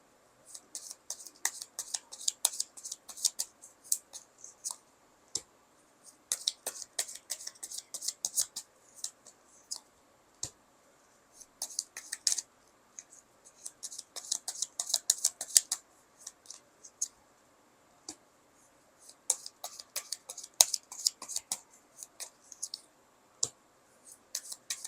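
Tarot cards are handled close by in repeated bursts of crisp clicking and flicking, separated by short quiet pauses.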